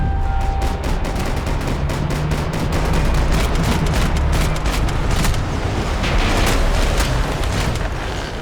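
Rapid sustained gunfire in Max Payne 3, a dense stream of loud close shots with booming low-end blasts, continuous and unbroken with no talk.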